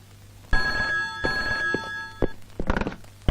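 A mobile phone ringing in a Telugu film scene: a short bright electronic ring tone that starts abruptly, holds for under two seconds, then gives way to soft handling thumps.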